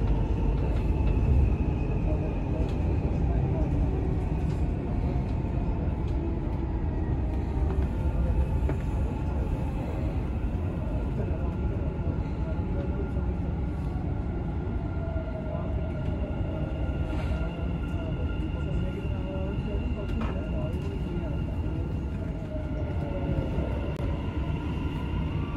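A Dubai Metro train rolls between stations, with steady loud rumble and wheel-on-rail noise filling the cabin, occasional squeals and tonal hums rising and falling, no speech heard.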